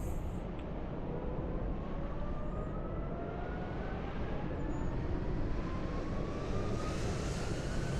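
A Ryanair airliner departs in Microsoft Flight Simulator 2020 at Dublin Airport, a steady loud simulated jet engine roar with slowly rising whine tones, continuous throughout with no talk.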